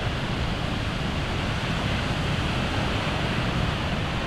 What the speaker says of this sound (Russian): Вот такие вот волны.